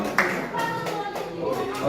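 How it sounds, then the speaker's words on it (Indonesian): Scattered audience clapping at a teachers' positive-culture dissemination session, a short round of hand claps heard with some voices beneath. "Ayo tepuk dong."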